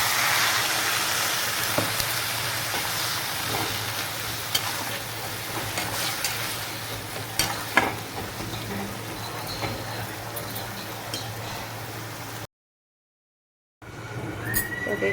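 Vegetables frying in a pan give a steady crackling sizzle with scattered sharp pops and stirring scrapes, and water is added partway. Near the end the sound cuts out briefly before the quieter sizzle returns.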